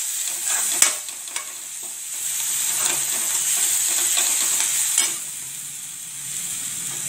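Green chilies sauté in hot oil with a bright, steady hiss and a few stirring clanks, close and fairly loud, no talk.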